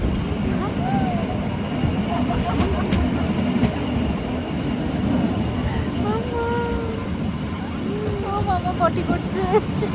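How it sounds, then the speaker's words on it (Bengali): Bernina Express train climbing through the Swiss mountains, a continuous rumbling rolling noise heard from inside the carriage, with faint squeals and light clatter, and voices talking quietly over it. "ট্রেন তো আমাদের ছেড়ে দিয়েছে এবার বার্নিনা এক্সপ্রেস বলুন বা বার্নিনা রেড ট্রেন রুট তো সেম রয়েছে"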